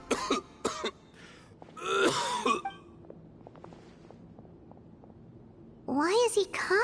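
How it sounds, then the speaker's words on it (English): A character in the video game Genshin Impact coughs in a rough, throaty burst between stretches of spoken dialogue. "Why is he coughing so much?"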